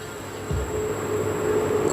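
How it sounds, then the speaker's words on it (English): Monster sounds in the horror game Monstrum, heard as a low, grinding, rumbling drone with a steady metallic whine and a deep thud near the start, loud and continuous with no talking. "I don't like these sounds that are coming from this monster."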